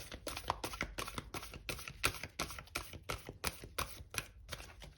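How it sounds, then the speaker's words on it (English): Tarot cards being shuffled up close, with a quick run of repeated papery flicks and slaps in a steady rhythm. "do one last shuffle"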